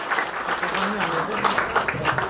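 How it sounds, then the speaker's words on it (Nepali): Applause at a Nepali wedding ceremony, with a crowd clapping steadily throughout and voices talking over it. "ताली दिनुहोस् न यस्तो है"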